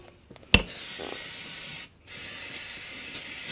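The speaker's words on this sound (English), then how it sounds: "we're going to spray this down" A sharp burst of cleaner spray hisses out onto an engine exhaust, followed by a steady, fairly loud aerosol hiss that pauses briefly and resumes.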